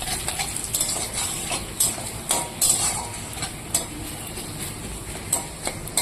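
Ginger fries in a tempering with cumin, bay leaf and dried chilli while a spoon stirs it, giving a steady sizzle cut by repeated metallic clinks and scrapes against the pan.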